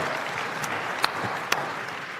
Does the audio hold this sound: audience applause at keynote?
yes